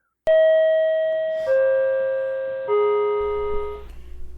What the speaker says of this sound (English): subway chimes, go